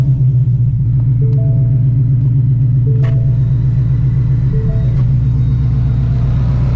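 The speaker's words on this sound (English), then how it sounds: "A lot of cars pulling up." Cars with rumbling engines pulling up at a 2am car meet, heard from inside a Shelby GT350, a loud, steady low engine drone close by with faint chimes over it.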